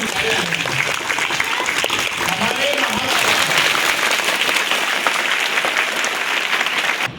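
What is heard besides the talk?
audience applause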